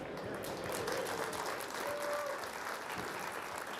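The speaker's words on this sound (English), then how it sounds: "There's the applause." Applause from an arena crowd at the WPA World Team pool championship after USA takes the second set against Norway, a steady sustained roar of clapping that fills the whole stretch.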